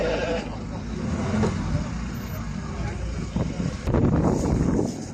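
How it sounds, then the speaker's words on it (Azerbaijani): Qala sheep bleat at a busy livestock market, steady calls mixed into crowd noise and voices talking nearby, with passing engine rumble in the background. "Qala qoyunları."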